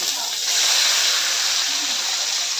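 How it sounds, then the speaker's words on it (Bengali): Red amaranth greens hit hot oil with fried onion and garlic, giving a loud, steady, close hiss of sizzling steam that holds for the whole moment. "যে পেঁয়াজ রসুনগুলো আমার লাল লাল করে ভাজা হয়ে গেছে, এখন শাকগুলো দিয়ে দিব।"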